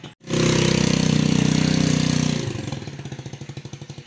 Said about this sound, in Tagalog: Maano talaga guys yung tambutso ni Papa Bit sa motor. Maingay.